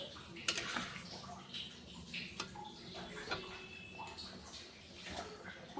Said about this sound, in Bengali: এই দেখো ফুটে গেছে ঝোলটা।